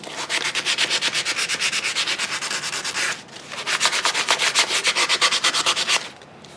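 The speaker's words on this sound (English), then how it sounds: "this is like 100 grit, no, this is 180 grit." A metal part from a failed RV air-conditioner motor, clamped in a vise, is sanded by hand with 180-grit sandpaper: fast, even back-and-forth rasping strokes up close in two long bursts separated by a short pause.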